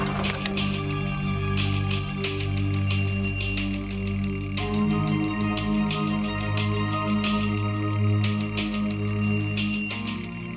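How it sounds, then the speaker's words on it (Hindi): A continuous electronic alarm ringing from a principal's room, with rapid repeated chimes and a sustained melodic pattern, loud and unbroken throughout. "अलार्म तो प्रिंसिपल दे कमरे चो आ रहे हैं।"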